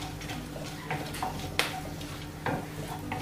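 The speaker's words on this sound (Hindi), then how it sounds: "तो यहाँ पे मैंने लिया है तेज पत्ता, 2 छोटी इलायची, लौंग, ब्लैक पेपर और 1 टुकड़ा दालचीनी। तो इसे हम अच्छे से सॉटे कर लेते हैं।" Whole bay leaf, green cardamom, cloves, black peppercorns and a cinnamon stick sauté in hot oil and butter, giving a steady soft sizzle with scattered light scrapes and stirring clicks from the pan.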